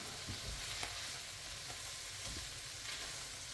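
Ground turkey browns in olive oil in a pan, giving a steady, soft hiss of frying with faint stirring scrapes and no talking.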